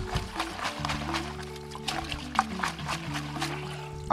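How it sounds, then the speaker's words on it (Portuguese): Water poured over the roots of a dehydrated orchid to rinse off soil, a steady trickle and splash close by with a faint background hum. "Eu vou utilizar essa água aqui, ó, para só dar uma lavada de forma bem simples mesmo"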